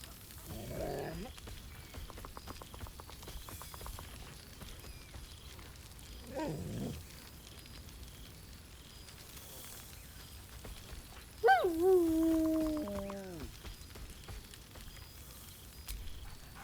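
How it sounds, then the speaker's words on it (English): Dog in a video game gives two short barks a few seconds apart, then a louder, drawn-out wavering whine over quiet ambient game sound. "Scratch barks merrily in something like agreement. He whines."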